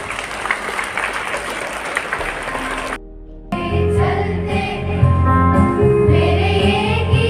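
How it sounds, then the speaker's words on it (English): Sustained audience applause at a school felicitation ceremony, dense and loud. It breaks off briefly, then returns alongside music with a steady tonal backing. "May I request all of you to give a big round of applause"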